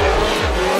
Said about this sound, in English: See the cars initiating here.